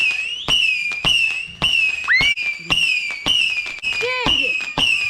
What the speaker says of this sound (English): Guys, do you hear that? Some fireworks.